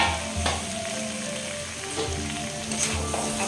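Cabbage chicken curry bubbling and sizzling steadily in a pan, with coriander leaves and stems just added, stirred with a few scraping strokes over continuous frying crackle.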